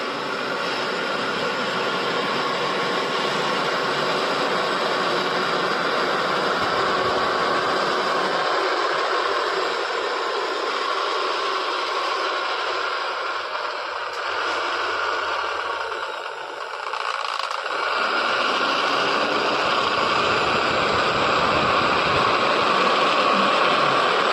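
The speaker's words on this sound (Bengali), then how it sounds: "হাউস কোট কাটিং চলছে, এটা গিরিজা গোল্ড।" A fabric cutting machine is at work on house coats in a garment factory, keeping up a loud, constant mechanical roar and whine with a brief dip partway through.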